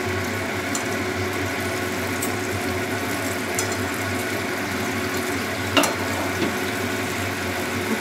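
A pot of fish curry with green mango at a steady boil, a soft continuous bubbling hiss close by with a brief clink partway through, no voices.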